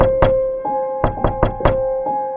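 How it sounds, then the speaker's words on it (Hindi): Loud, sharp knocks on a door in a horror story scene, a single rap followed by a quick burst of four heavy thuds, ringing out close and alone over a faint sustained tone. "अचानक दरवाजा जोर से खटखटाता है।"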